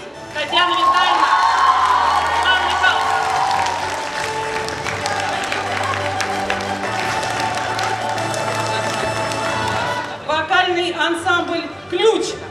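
An audience at a year-end concert applauds in a dense, continuous wash of clapping under loud music, with an announcer's voice heard over it before the clapping thins out near the end.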